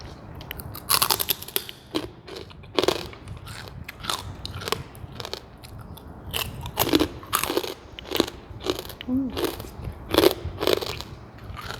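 Crispy pork rinds are bitten and crunched close to the mic, with a series of sharp, brittle cracks followed by chewing in an irregular rhythm of a dozen or so bites.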